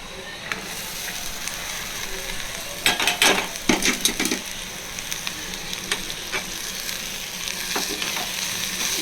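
Finely chopped beans sizzle and fry with onion in a pan, a steady crackle broken by sharp bursts of stirring and scraping near the middle.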